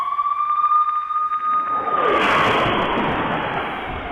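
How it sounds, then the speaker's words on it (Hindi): A wailing siren holds a steady tone, then swells into a broad, rushing roar as a bomb strike hits in Belgorod, loud and close throughout. "सायरन भी बजा था उस वक्त वहां पर जब ये बॉम्ब गिरा"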